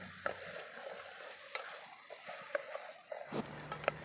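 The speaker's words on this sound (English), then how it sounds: "Now stir it nicely. Now the tomatoes are getting cooked very nicely." Tomatoes and spices fry in a camp pan over an outdoor stove during Pakistani-style bicycle-touring cooking, with a steady close sizzle broken by scattered scrapes and clicks of stirring and no talk.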